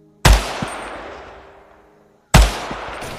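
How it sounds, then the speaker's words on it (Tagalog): Two loud, close gunshots are fired at an aswang about two seconds apart, each with a sharp crack followed by a long, echoing decay that fades before the next shot. "Sunod-sunod na putok ang pinakawalan ng mga tao doon."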